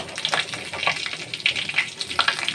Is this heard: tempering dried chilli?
yes